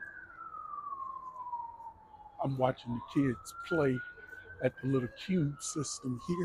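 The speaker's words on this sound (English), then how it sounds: "Y'all excuse that siren in the background there" A police siren wails steadily in the background, its pitch slowly falling then rising, while someone talks over it close by.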